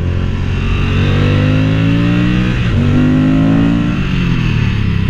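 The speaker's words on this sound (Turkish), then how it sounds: "Motor geliyor." A motorcycle on a winding Alpine mountain road near Mandello, its engine droning loud and steady with rising and falling pitch as it approaches, no voices.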